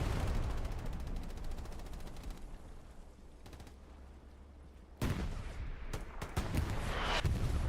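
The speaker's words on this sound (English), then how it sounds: "Just bombarding this broken building right on AA network. With some cannon fire" Cannon fire pounds a broken building in the Hell Let Loose war game. Loud blasts rumble and roll through the opening, the sound drops to a low drone, and then a sharp new burst of heavy gunfire follows.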